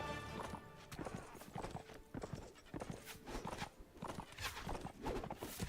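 Horse hooves clip-clop at a steady walking rhythm in Mount & Blade: Warband, loud and close, with one brief whinny among the beats; a faint voice sits underneath.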